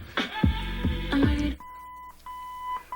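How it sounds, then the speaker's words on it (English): A short series of electronic beeps from a car 8-track stereo follows a brief burst of sound, steady tones repeating at a moderate pace, clear and close. "there's our series of beeps instead of the voice prompts"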